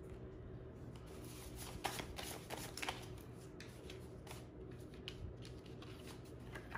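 Playing cards shuffled with dry hands make a steady, faint papery riffling and rustling that runs continuously, with a few slightly sharper flicks and no talking.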